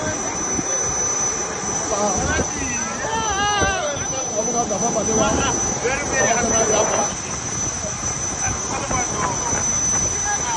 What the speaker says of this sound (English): This is the private charter jet that brought us Bauchi.